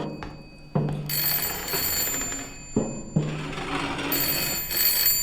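An old telephone bell rings repeatedly in the horror game Layers of Fear, sharp ringing bursts that start about every two seconds over a dense, droning ambient bed.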